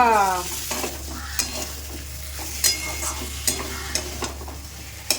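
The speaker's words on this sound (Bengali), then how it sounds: "এখানে হচ্ছে মশলা কষানো হচ্ছে মশলা কষানো হচ্ছে" Spice paste frying in a pan, a continuous close sizzle broken by regular scraping and tapping strokes of a stirring utensil, with a low hum underneath and no talking.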